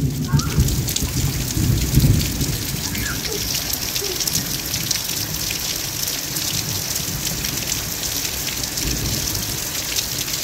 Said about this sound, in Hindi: ये देखो इसको भीगना है बारिश में।